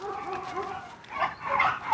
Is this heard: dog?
yes